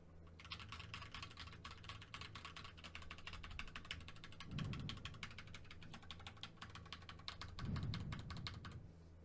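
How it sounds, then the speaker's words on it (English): Steady, fast typing on an Anne Pro 2 mechanical keyboard fitted with Gateron Brown switches, crisp clustered keystrokes over a low mains hum, with a couple of heavier thumps partway through. "Now I'm going to be doing a keyboard test. I'm using the An Pro 2 with Gateron Brown switches."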